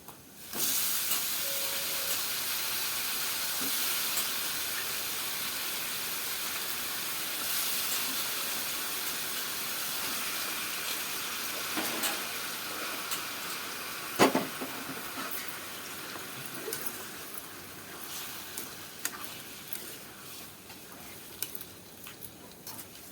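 Chicken sizzling in a pan of fried onions, a steady loud hiss with occasional crackles and small pops running continuously for over twenty seconds with no talking.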